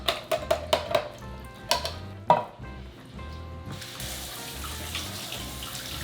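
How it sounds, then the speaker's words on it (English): Black beans rinsed under a kitchen tap: a few sharp clinks of a container or utensil, then a steady stream of running water splashing into the sink, nearby and without speech. "I am just going to rinse out my black beans"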